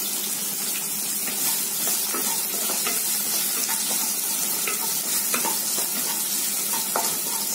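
Garlic and onion sauté in oil with a little salt for a brinjal kuzhambu. A dense, close crackling sizzle runs throughout, broken by frequent small spatters and stirring scrapes.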